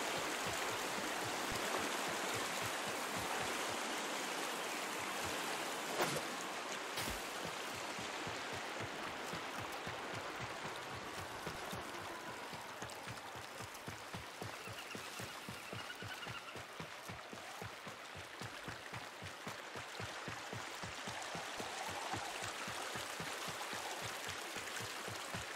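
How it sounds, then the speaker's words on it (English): Flowing river water in the video game Warframe rushes steadily and continuously, a dense, even splashing wash with a rapid rippling texture and no voices. "Let's head over to this long running river."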